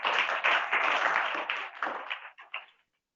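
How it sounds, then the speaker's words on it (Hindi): Students in a village classroom clap their hands together in loud, close bursts of quick rhythmic claps that break into a few scattered final claps before stopping. "तो बजाओ तालियां।"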